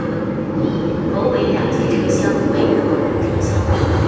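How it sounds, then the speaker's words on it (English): A Shanghai Metro train rumbles steadily into a station, a broad low roar with faint squeals and hissing above it, continuous and fairly loud. "Okay, the train will be coming down this way."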